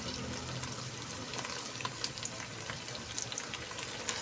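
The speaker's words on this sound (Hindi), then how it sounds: "अब इन दोनों को अच्छे तरीके से हम मिक्स कर लेंगे।" Potatoes and carrots fry in a pan as they are stirred, giving a steady close sizzle broken by soft scraping and light clinks, with no talking.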